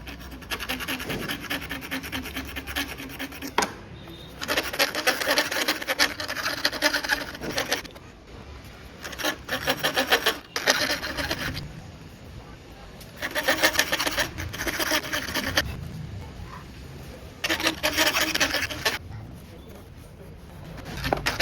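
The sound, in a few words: metal file widening a hole in a metal mount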